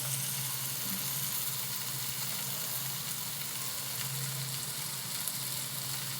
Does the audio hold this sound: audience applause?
no